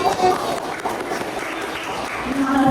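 Students in a classroom clap together, a brief, steady burst of scattered hand claps blended with voices and room noise.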